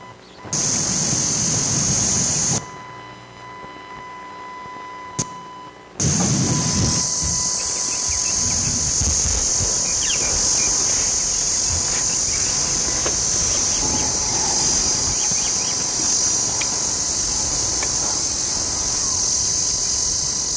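Cicadas in a film scene at dusk give off a loud, dense, continuous buzzing that cuts out for a few seconds and then returns just as strong, with quieter low rustling beneath.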